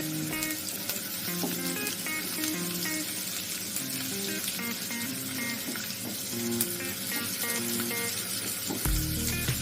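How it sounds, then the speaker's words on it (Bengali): Chopped onion, garlic and green chilli sizzle in oil over fenugreek tempering, a continuous crackling fry with occasional utensil clinks and tonal background music throughout. "পেঁয়াজ কুচি দিয়ে দেবো। রসুন কুচি, কাঁচা লঙ্কা কুচি,"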